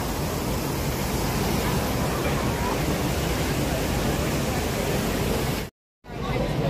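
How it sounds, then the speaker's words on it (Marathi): A waterfall in Sydney gives a steady, dense wash of broadband rushing noise that fills the whole clip, loud and unbroken apart from a brief cut near the end. "आणि इथे हा धबधबा."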